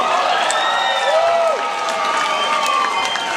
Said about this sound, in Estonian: Teeme aplausi Meelis Taugile!